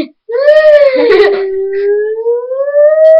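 A wailing siren in Skyrim rises and falls in long smooth sweeps, loud and close, with a brief whimpering vocal quality at the start.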